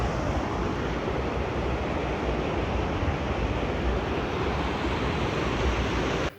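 Steady broadband roar of rushing water at a waterfall in an Indian jungle, loud and continuous throughout with no voices, cutting off abruptly at the end.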